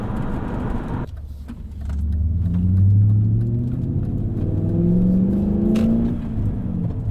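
BMW E39 M5 Touring wagon with the S62 V8 revving hard, a deep, loud engine note that rises and falls through two strong pulls over several seconds, heard close and alone with no talk.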